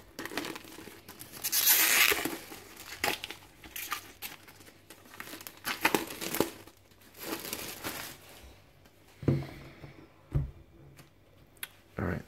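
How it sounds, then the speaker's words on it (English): Plastic shrink wrap being torn and peeled off a hardcover book, close crinkling and tearing bursts in an irregular rhythm, loudest early, then quieter rustles and a few sharp clicks. "let's get the book unwrapped and have a look what we see inside"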